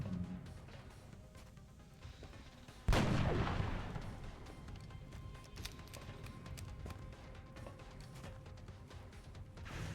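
Gunfire in the XCOM Long War strategy game, a single loud blast followed by a decaying rumble over a low game ambience, no talking.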